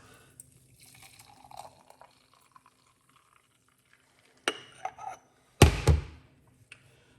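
Beetroot juice pours in a couple of short gurgling bursts, followed by a louder splash and thunk, after a quiet stretch with small clicks.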